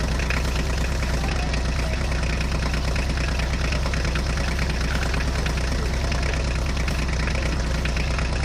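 Swaraj and John Deere tractors run with a steady, droning diesel engine rumble and knocking vibration, continuous and close, with no voices.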